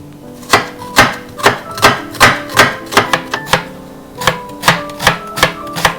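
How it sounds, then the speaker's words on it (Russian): An onion being finely chopped with a knife on a cutting board, sharp rhythmic knife strikes in quick bursts with a brief pause midway, close and loud, with no speech. "Одну луковицу я нарежу мелко."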